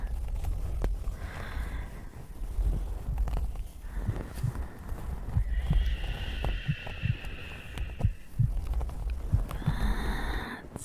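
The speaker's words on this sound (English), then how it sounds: "I know how much my heartbeat soothes you" A steady low heartbeat throb pulses under rain and soft rustling of fur at a calm, close, intimate level, with no speech.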